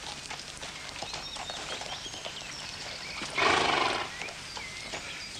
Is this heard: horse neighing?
yes